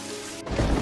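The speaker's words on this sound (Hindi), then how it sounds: "हे भगवान, इतनी तेज बारिश।" Heavy rain pouring down during bad weather over a farm field, a steady broadband hiss that swells louder and denser halfway through the short burst, with no voices.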